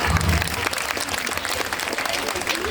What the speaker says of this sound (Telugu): అనన్యకి ఒకసారి క్లాప్స్